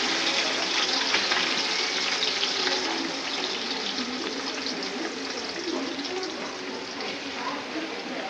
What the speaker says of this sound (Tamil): அரிசி கழுவுறாங்க அம்மா.